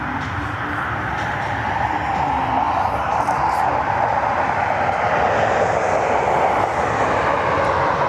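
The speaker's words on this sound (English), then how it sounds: "Here's the United A319. Flight 1084 on our way to Newark." A United Airbus A319 airliner on flight 1084 bound for Newark, heard at Cleveland Hopkins as a steady, loud broadband jet roar that holds unbroken throughout.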